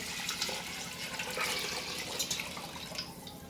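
Water, roughly 3.5 litres, is poured into a cooking pot for khichdi, giving a steady rushing splash that carries on without pause from start to finish, with no talking.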